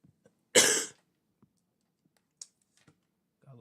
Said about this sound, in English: Got a little cough,